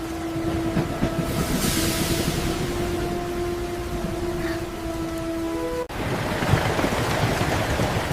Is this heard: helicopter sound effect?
no